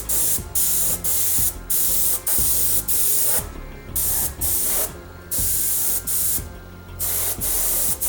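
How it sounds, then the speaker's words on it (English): Old Taché airbrush spraying a thick Tamiya paint mix of bronze, hull red and rust onto a model, heard as repeated close, loud bursts of airy hiss separated by short pauses, with no talking. "I'm just using my old Taché because it seems to shoot a thicker paint better."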